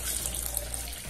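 Water pours in a brief, steady splashing stream, close and fairly quiet.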